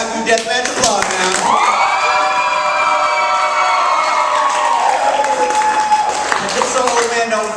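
Audience at a haiku deathmatch poetry event cheering and applauding, with whoops and shouts rising over continuous clapping, loud and sustained throughout.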